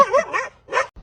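A dog giving a few short, high yipping barks in quick succession, close and fairly loud, with brief gaps between them.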